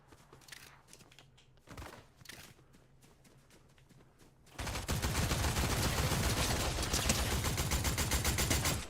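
Rapid automatic gunfire from a Fortnite match bursts in loudly and runs continuously for several seconds, following a quieter stretch of scattered shots, footsteps and game noise.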